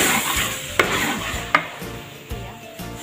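Gulai goat curry spice paste is stir-fried in a pan as a dense crackling sizzle, broken by several loud scrapes and knocks of a spatula against the pan.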